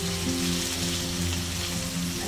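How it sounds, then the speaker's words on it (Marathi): Stuffed eggplants are gently stir-fried in a pan for Maharashtrian bharli vangi, making a loud, continuous sizzle and spatter with a low steady hum underneath and no talk. "आता पहिल्यांदा हलक्या हाताने वांगी परतवून"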